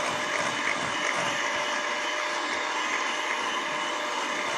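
Electric cake mixer whirring steadily while batter for steamed palm-sugar sponge cake is beaten, a continuous, fairly loud motor drone with no talk.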